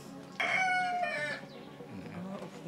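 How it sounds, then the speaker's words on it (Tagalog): Chickens and roosters at a Cebu gamefowl breeder's farm, with a loud close rooster crow rising suddenly and trailing off, followed by softer clucking in the background. "yung mga manok ato lang videohan"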